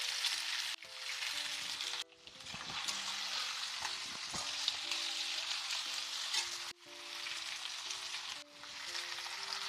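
Potatoes sizzle steadily in a hot pan for an ivy gourd and potato fry, with a loud, continuous crackle broken by a few brief pauses and with soft music underneath.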